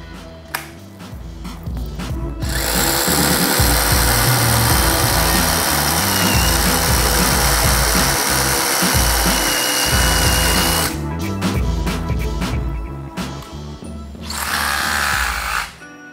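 A DeWALT Xtreme SDS rotary hammer runs at full speed with a loud, steady motor whine and rapid hammering rattle for about eight seconds, stops, then fires again in a shorter burst, with no talking.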